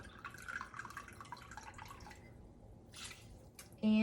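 Rice vinegar being poured from a new bottle into a measuring cup makes faint, close trickling and dripping sounds in a quiet kitchen, ending with a louder tone.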